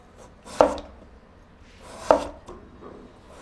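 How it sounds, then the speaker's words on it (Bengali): A knife cuts through peeled potatoes on a board, slicing them thinly: two separate crisp, close chopping strikes about one and a half seconds apart, with quiet between them. "আলুর লম্বা পাশের দিক থেকে প্রথমে কাটছি।"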